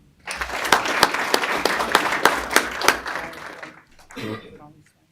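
Audience at a school board meeting applauds the 2023 varsity volleyball city champions, with dense steady clapping and a few sharp claps, then a brief pause and a short final burst.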